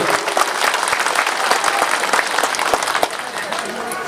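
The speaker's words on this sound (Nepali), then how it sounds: "सबैलाई एकताल उहाँहरूको निम्ति ताली लगाइदिने सबै।" A crowd at an outdoor public gathering in Nepal claps steadily in loud, dense applause that holds throughout, with a slight easing near the end.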